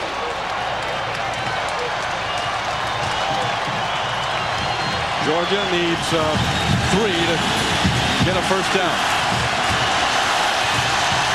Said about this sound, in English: The crowd sensing the importance of this play, rising at Alltel Stadium